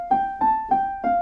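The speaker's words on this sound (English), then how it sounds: "That might be something that is a higher sound." A piano plays four repeated high notes in an even, moderately loud rhythm, each struck clearly and decaying briefly before the next, with no talk over it.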